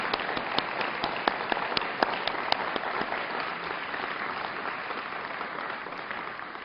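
An indoor audience at a community gathering applauds Department of Justice and FBI staff, with dense sustained clapping from a large crowd, steady and fairly loud throughout with a few sharper individual claps standing out.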